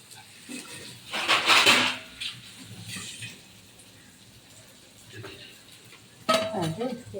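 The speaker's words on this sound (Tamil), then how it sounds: "கொதி வந்த ஒரு தட்டு எடுத்து மூடிடுவோம்." Metal dishes clink and clatter in a kitchen, with a scrape and clank as a plate is set down as a lid over a boiling pot of fish curry, then more clattering near the end.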